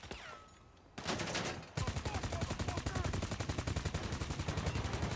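Rapid bursts of gunfire in GTA 5 Online during a heavily guarded train heist, a short volley followed by sustained loud automatic fire that rattles on steadily to the end.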